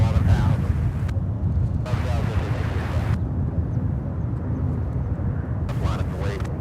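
An airliner taking off from runway 18 left at Charlotte-Douglas airport, a broad steady engine roar heard from a distance, with a voice talking over parts of it.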